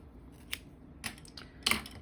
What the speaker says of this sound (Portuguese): Eu vou cortar esse fio.